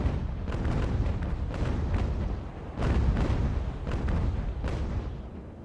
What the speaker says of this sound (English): All guns ready to fire.